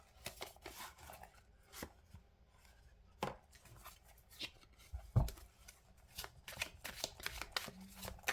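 Oracle cards are shuffled by hand in a quiet room, a string of soft, irregular riffling and slapping bursts with short pauses between, close and fairly faint, without talk.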